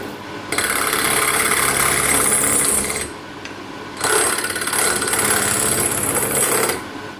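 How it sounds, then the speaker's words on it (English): A power drill grinds loudly in two long bursts with a short pause between, a harsh, buzzing drone as it bores out a broken tap. "The drill is definitely working, but you've just got to take your time with it."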